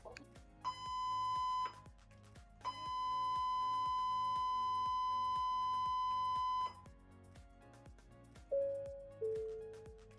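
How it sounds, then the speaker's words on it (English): A cruise ship's general emergency alarm on the MSC Divina sounds in long tonal blasts, one short and one sustained, then brief falling beeps, over a low repeating mechanical pulse. "The sound you just heard is the general emergency signal."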